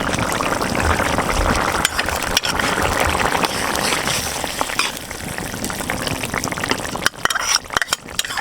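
Ground cumin paste goes into a Bengali kalibaush fish curry with potatoes, bubbling in the pan with a continuous, fairly loud sizzle and wet simmering under occasional stirring knocks.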